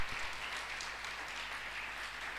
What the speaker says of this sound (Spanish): Dale un fuerte aplauso al Rey de Gloria.